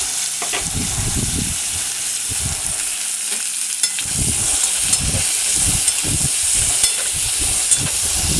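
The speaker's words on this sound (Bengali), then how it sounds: "পেঁয়াজ কুচিটা দিয়ে একটু নাড়ছি ধীরে ধীরে লাল হয়ে গেলে" Chopped onions frying loudly in hot spiced oil with ginger and garlic, a steady close sizzle and hiss broken by repeated scraping stirs of a spatula in the pan, no voices.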